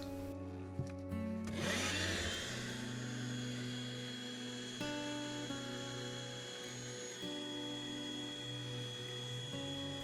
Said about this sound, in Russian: Пылесос готов, можно запускать.